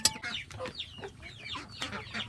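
Backyard chickens cluck and squawk in quick overlapping bursts while being fed rice, close and moderately loud, several birds calling in an irregular rhythm.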